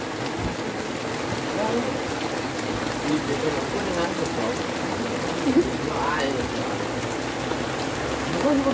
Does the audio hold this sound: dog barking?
no